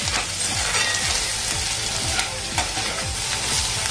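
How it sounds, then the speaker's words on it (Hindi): Grated garlic, green chili and ginger frying on high heat for paneer chili, a loud continuous sizzle close up with rhythmic spatula strokes scraping the pan about every half second, no voices. "और तेज आंच पे ही इसे अब हम भूनेंगे।"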